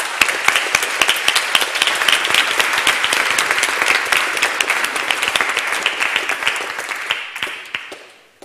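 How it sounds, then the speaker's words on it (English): A debate audience gives a warm round of applause for the next speaker, dense and loud close clapping that runs steadily for about eight seconds before tapering off. "everyone please give him a warm round of applause"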